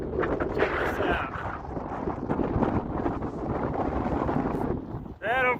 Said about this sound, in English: You can see it's a little windy.